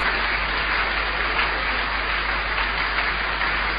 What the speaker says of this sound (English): Thank you, those of you who are clapping.